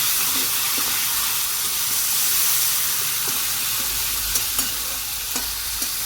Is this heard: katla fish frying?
yes